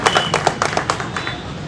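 A short burst of scattered handclaps from an audience welcoming a guest at a Samajwadi Party gathering; a few distinct, fairly close claps fade out quickly.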